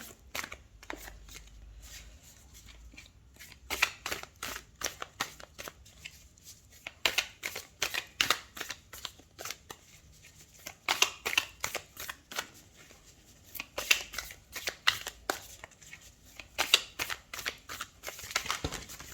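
Tarot cards are shuffled by hand in quick bursts of crisp riffling and flicking, close and fairly quiet, with short pauses between bursts and no talk.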